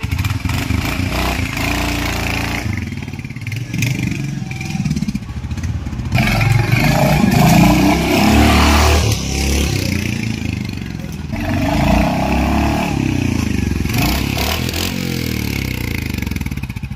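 A Royal Enfield Hunter 350 motorcycle with a 350 cc engine runs steadily and up close, its low throaty rumble swelling with revs in a few surges, together with some clatter and road noise.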